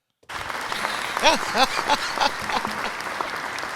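Crowd applause sound effect bursts in after a brief silence and holds steady for a few seconds, with a voice talking over the clapping.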